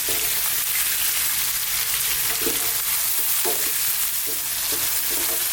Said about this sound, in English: I'm now going to add in my onions. And we're going to keep, again, frying this around another 3 to 4 minutes